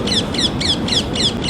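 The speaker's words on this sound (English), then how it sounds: "Can you hear those parrots?" Parrots calling outdoors, a rapid series of sharp, repeated chirping calls at an even rhythm over a steady low background noise, fairly loud.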